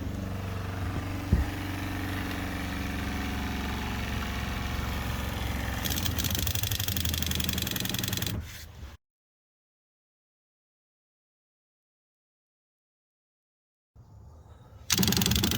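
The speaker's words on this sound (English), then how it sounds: "You can hear the pump" A Truma RV water heater pump runs inside an Ultrastore camper, giving a steady mechanical hum that cuts out abruptly into silence for several seconds, then starts up again near the end.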